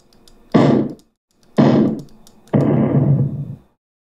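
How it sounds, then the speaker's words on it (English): Three successive explosion sound effects from a Three.js browser project, each a sudden loud thump followed by a short decay, spaced about a second apart, with the last burst ringing longer. "That's more of an explosion sound."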